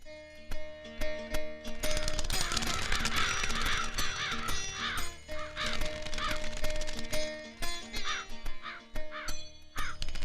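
Repeated loud crow caws close by, coming in irregular bursts over a busy background of clatter and chatter.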